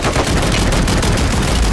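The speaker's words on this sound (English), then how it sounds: "I'm getting shot from both angles here." Rapid bursts of gunfire hammer in a video game firefight, loud, close and continuous, with shots coming from more than one direction.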